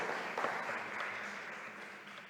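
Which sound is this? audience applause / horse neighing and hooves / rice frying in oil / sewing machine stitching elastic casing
audience applause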